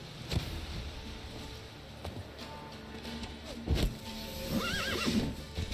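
A horse in a video game neighs near the end over a steady bed of ambient game sound, with hoofbeats thudding faintly throughout.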